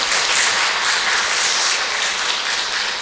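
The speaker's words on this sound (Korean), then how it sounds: "큰 박수 한번 부탁드리겠습니다." Audience applause at a Chuncheon diocese lay memorial day gathering, dense continuous clapping from a crowd that stays loud and even throughout, with no speech over it.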